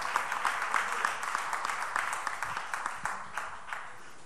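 A church congregation applauds steadily, dense clapping filling the space for several seconds before thinning out slightly at the end.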